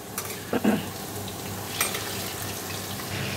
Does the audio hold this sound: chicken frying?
yes